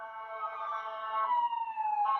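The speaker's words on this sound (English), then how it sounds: "if you do ever hear ambulances and sirens, I live in a city and we're right near a firehouse, a hospital, and a police station" City ambulance and police sirens, a wailing tone that slowly sweeps downward then rises again, moderately distant and heard alone without talk.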